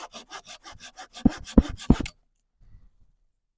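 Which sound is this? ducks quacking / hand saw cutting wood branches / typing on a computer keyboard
hand saw cutting wood branches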